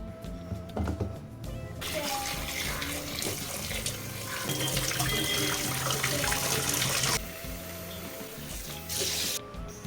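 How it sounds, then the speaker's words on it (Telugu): Tap water runs and splashes as onions are rinsed by hand in a kitchen sink, with uneven gushes and handling noises that swell and fade over several seconds, nearby and fairly clear. "ఫస్ట్ అయితే ఈ ఉల్లిగడ్డల్ని నీట్గా కడిగేసుకొని కుక్కర్లో అయితే వేసేద్దాము"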